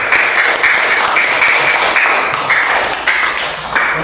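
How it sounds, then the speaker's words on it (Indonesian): Applause from a classroom of students, dense and steady clapping throughout at close range, with no clear speech over it. "Beri tepuk tangan untuk teman kita."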